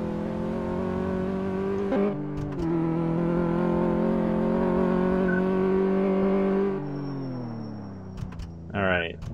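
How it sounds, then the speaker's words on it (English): A car's engine revs during a test drive in the video game Car Mechanic Simulator 2014, a steady loud droning whine that holds and then drops as the pitch shifts, with a short rising rev near the end and a person talking over it. "don't ever ask me to test drive your car in a video game"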